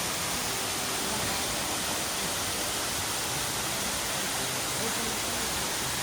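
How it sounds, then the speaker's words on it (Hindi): A waterfall drops from a height beside a mountain trail on the Madhmaheshwar trek in the Himalayas, early in the morning. It makes a steady, broad, hissing roar with no break across the whole stretch. "ऊंचाई से गिरता हुआ एक बहुत ही सुंदर झरना।"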